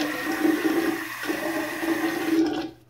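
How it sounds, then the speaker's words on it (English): Water running and splashing for a few seconds while it is applied by hand to a freshly shaved head, a steady close rushing that stops abruptly at the end, with no talking. "I'm going to apply a little bit of water."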